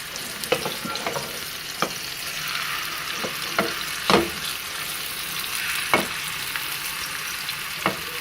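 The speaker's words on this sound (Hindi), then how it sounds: "अब हम इसमें कबाब तल लेंगे।" Chicken seekh kebabs frying in hot oil, a steady close sizzle broken by scattered sharp pops and spatters, with no voices.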